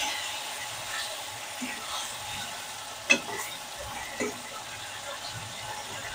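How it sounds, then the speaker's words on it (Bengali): Tomato paste sizzles softly in a pan while being stirred, with a low steady frying hiss broken by a few brief scrapes and one sharp clink. "এবার আমি এখানে দিয়ে দেব টমেটো পেস্টটা। দিয়ে সবকটাকে একসঙ্গে মিলিয়ে নেব।"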